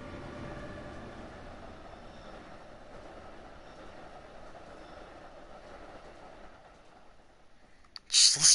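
A train passes by in Train Sim World, a steady broad rumble holding for several seconds and fading slightly before a sharp louder burst near the end.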